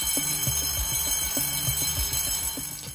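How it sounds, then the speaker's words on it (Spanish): A fire alarm rings inside a building in Japan, sounding as a loud electronic melodic pattern that repeats steadily about every second without pause, with no talk. "Estás de viaje y de repente suena la alarma de incendios en un edificio de Japón."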